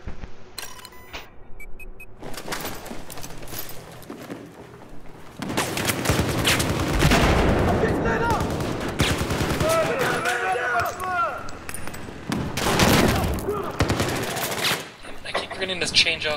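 Bursts of MG4 machine gun fire in a Battlefield 4 match, loud and repeated, mixed with other battle noise and player chatter over voice chat.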